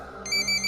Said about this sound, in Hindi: बस एक फोन रिंग से।